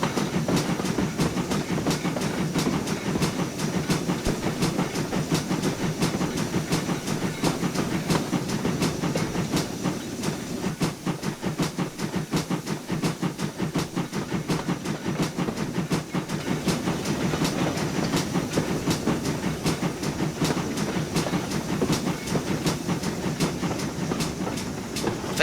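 An LNWR G2 Class Super D steam locomotive in a train simulator game, rolling steadily with rhythmic rail clicks and a low rumbling chuff under a constant hiss, close and loud throughout.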